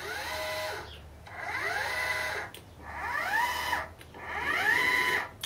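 Telescope mount motors whine as they slew under manual key control from a Raspberry Pi control panel, in four separate motor runs that rise in pitch, hold steady and then stop.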